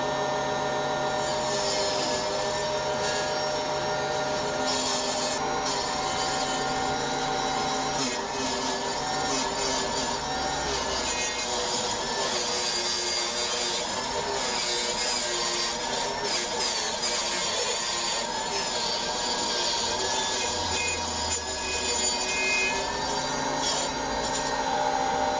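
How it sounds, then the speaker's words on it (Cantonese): A table saw cuts an acrylic sheet at a bevel as the piece is pushed along the fence, producing a loud, continuous whining drone with a steady grinding edge that runs unbroken throughout. "拍住鋸台嘅靠山嚟推送。"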